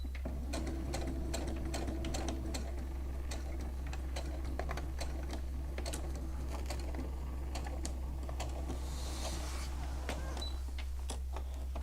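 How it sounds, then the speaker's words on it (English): A sewing machine stitching slowly and carefully along a snug-fitting seam, its needle ticking in a steady, unhurried series of small clicks over a low constant motor hum, close and quiet, with no talking. "because this is a snug fit, I do need to sew very slow"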